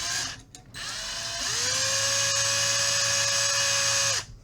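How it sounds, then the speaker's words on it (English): An electric drill twists antenna wire for a homemade end-fed half-wave dipole, making a close, steady motor whine that rises in pitch as it spins up, holds for a few seconds, then winds down and stops. "I'm going to put this in my drill."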